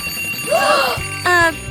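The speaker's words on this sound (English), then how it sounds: "the clock is yelling! That scared me. It's just a clock, but it's really loud" A clock's alarm bell rings out loudly in a short, bright burst, following a brief rising and falling tone.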